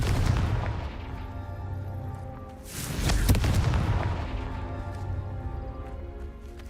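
Confringo blast spell detonating in Hogwarts Legacy, a booming explosive burst over a loud, sustained rumbling game soundscape, with a sharp crack near the middle.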